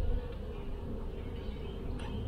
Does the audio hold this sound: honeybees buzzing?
yes